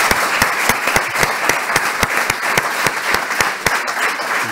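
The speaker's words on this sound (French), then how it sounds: "que l'on peut applaudir" An audience at a civic event in Nîmes applauds a deputy mayor, a full, steady round of clapping with sharp individual claps standing out, fairly close and with no voices over it.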